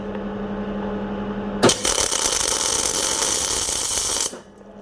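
A Murex welder's wire feed motor under diagnosis and repair, running at speed setting 3, starts abruptly and holds a loud, steady mechanical whir for about three seconds before cutting off, with no one speaking.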